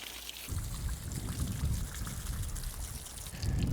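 Water pouring and splashing over a plant tray as soil is washed off ginger and turmeric, a continuous close gushing stream that swells louder near the end, heard alone without talk.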